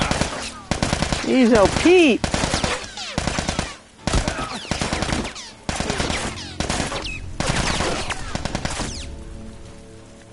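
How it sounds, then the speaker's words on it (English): Rapid gunfire in The Last of Us video game, bursts of automatic shots aimed at the player, loud and repeated in clusters, with someone talking briefly over them. "Wait, where's this guy shooting me from?"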